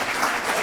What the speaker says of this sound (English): A round of applause, please, for Exora.